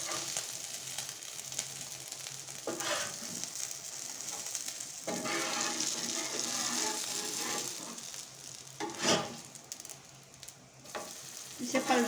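Chicken and chana dal shami kebabs sizzle steadily in hot oil in a pan, a continuous close frying hiss with occasional louder spatters and a few clinks as the patties are turned, no voices.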